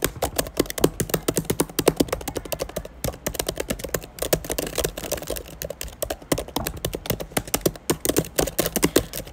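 Computer keyboard typing played as ASMR: rapid continuous clacking keystrokes in quick irregular bursts, close and crisp, with brief pauses, no voices.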